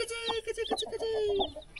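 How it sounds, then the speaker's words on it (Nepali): Small chicks cluck and peep close by while pecking at a camera, giving short, high chirps and soft clucks in an irregular scatter with brief pauses, faint and near, with no talking. "यसवाला चाहिँ सानो सानो चल्ला यसलाई चाहिँ के आयो भनेर ठुङ्नु खोज्दैछ क्यामेरालाई"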